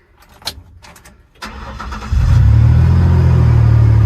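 A cheap classic-style shop truck engine cranks and starts. Quiet clicks and rattles come first, then a short cranking burst, and the engine catches into a loud, steady, close idle.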